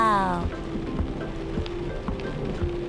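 Steady rain falls in a continuous soft patter with no break, and a short tonal sound at the start.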